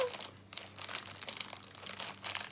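Crinkly plastic wrapping of a Labubu surprise package being torn and opened up close, with soft rustling and crumpling bursts across a couple of seconds.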